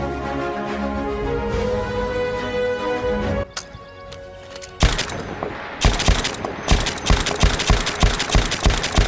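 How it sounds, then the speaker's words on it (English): A BAR in Battlefield 1 opens up in fully automatic fire, a rapid, punchy string of loud shots that follows a stretch of sustained tonal music. "what I think a BAR sounds like when fired in fully automatic"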